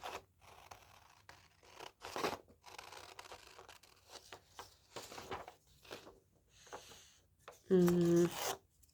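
Scissors snip and rasp through paper while someone cuts out printed binder trackers, a series of close, soft cutting strokes with a brief louder buzzy scrape near the end.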